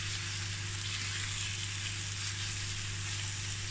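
A steady, close sizzle of boneless chicken thighs frying in a pan on medium heat, continuous and even throughout with a low hum underneath.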